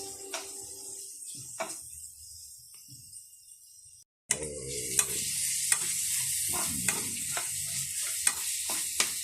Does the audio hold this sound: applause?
no